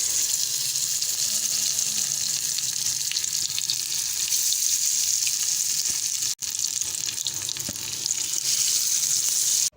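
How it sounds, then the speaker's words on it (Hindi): Marinated fish fries in oil over slow heat, giving an even, continuous sizzle and crackle close by, with a brief break midway and no talking. "अब मैं यहाँ पे इसको फ्राई करती हूँ स्लो हीट पे"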